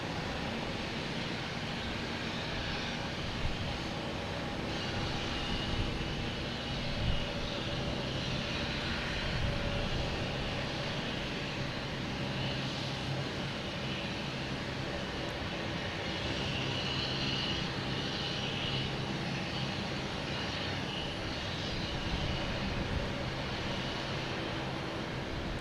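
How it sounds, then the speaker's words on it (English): A KLM airliner from Amsterdam lands at Boston Logan Airport, heard as a sustained, broad jet roar that stays loud and steady, with no talk. "KLM coming in."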